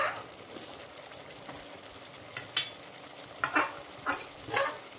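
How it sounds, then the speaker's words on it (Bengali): Potatoes for egg chili are stirred in a frying pan, giving a soft constant sizzle broken by several scraping, clattering stir strokes that grow busier toward the end. "আর এতে এখন আমি আলুটা অ্যাড করে দেবো"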